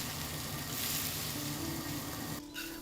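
Blanched pigeon meat stir-frying in a hot wok gives a steady, close sizzle that lasts throughout and dips briefly near the end, with no talking.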